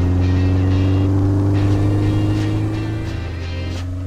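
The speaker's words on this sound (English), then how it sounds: "The deep rumble that rewards a turn of the key makes all those repairs worth it." A 1976 BMW 2002 engine rumbles with a deep, steady low drone and strong harmonics, rising slightly in revs with brief throttle blips, heard close and loud with no talking.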